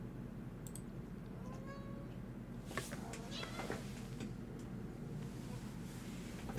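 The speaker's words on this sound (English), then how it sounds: "Got the cat up here too, going crazy." A cat meows a few times, faint and somewhat distant, over a low steady hum, followed by a cluster of sharp clicks and taps; no talk.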